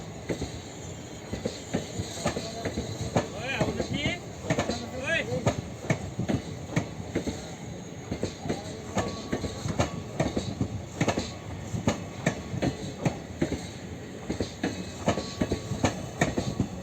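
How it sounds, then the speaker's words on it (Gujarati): The Rajkot–Porbandar passenger train, an all-unreserved decorated rake led by an electric locomotive, rolls past on its inaugural run with steady rhythmic clickety-clack of wheels over rail joints and metallic clanks, close and continuous, with voices talking over it. "ટ્રેન છે ભક્તિનગરથી નીકળી ગઈ છે."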